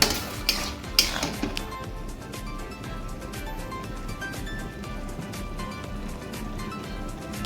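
Malabar spinach and prawns being stirred in a metal pan, a few sharp clanks of the spoon early on, then steady scraping and sizzling with light rattles throughout.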